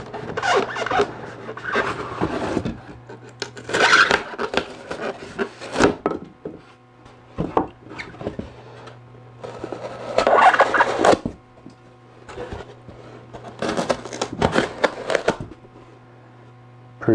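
A Kershaw Link 1776 knife blade cuts through styrofoam, making harsh squeaky rasping bursts in several separate strokes with short pauses between them, close and fairly loud with no talk.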